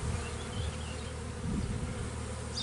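Honey bees buzz in an opened beehive during a colony inspection, a dense, continuous close drone of many insects with slight swells in loudness and no voices.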